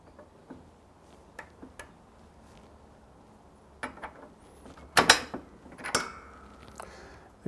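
A chilled bearing drops into the water pump housing of a Gilera Saturno motorcycle, giving a sharp metallic clink and brief rattle as it seats, among a few small tool taps in a quiet workshop.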